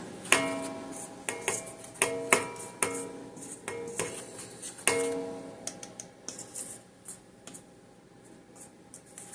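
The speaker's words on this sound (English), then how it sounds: "Make sure that's mixed together well. That salt in that baking soda in with the flour." Flour, salt and baking soda are stirred together in a bowl with a utensil, producing a series of sharp, irregular clinks and scrapes against the bowl that fade toward the end.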